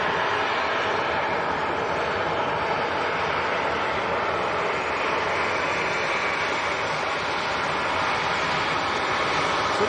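A Jet2 Airbus A321neo bound for Alicante roars steadily at Leeds Bradford Airport, a loud, continuous broadband engine rumble and whoosh that holds level throughout, with no talking over it.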